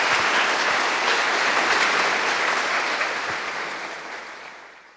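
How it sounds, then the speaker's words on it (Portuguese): Sustained applause from a church congregation at a Sunday worship service, a dense steady clapping that fills the room and slowly fades toward the end. "Uma forte salva de palmas para o Senhor Jesus."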